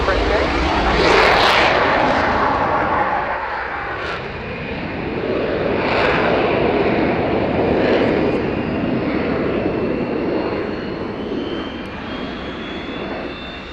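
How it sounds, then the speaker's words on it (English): Fiat G91R 1A jet rolling at an air show, a loud continuous engine roar with swelling passes and a faint whine, commentary voices audible underneath. "the aircraft I was talking about, from the Catalan group, the Fiat G91R 1A"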